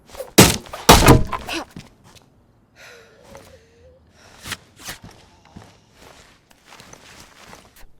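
A combat knife strikes a wall in the video game DayZ. Two loud, heavy thunks come near the start, followed by softer scattered knocks and thuds along with faint game ambience.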